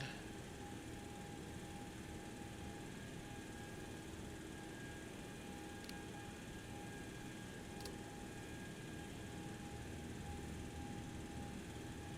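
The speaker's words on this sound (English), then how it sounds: "Engine stabilizing." In the X-Plane 11 flight simulator, a jet engine settles after start into a quiet, steady hum with a faint tonal whine holding level throughout.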